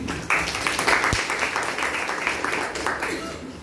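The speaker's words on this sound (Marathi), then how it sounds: "त्याच्यासाठी टाळ्या वाजवा सर्वांनी." A group of students applauding together in a classroom, a dense steady patter of clapping that starts abruptly and carries on evenly with a few voices mixed in.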